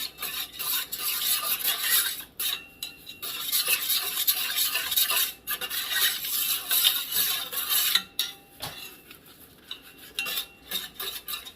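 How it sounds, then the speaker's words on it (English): A spoon stirs Sure Jell pectin into a pot of elderberry and blackberry jam, scraping and clinking against the pan in steady, continuous strokes with brief pauses. It sounds close and fairly loud, with no voices. "I'm going to sprinkle this Sure Jell in, just kind of mix it all up good"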